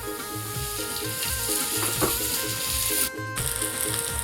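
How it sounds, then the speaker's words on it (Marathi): Onion roasting in a little oil on a hot griddle gives a steady close sizzle and crackle with a brief scrape, no voices. "तर भाजण्यासाठी कांदा घालते, थोडंसं तेल."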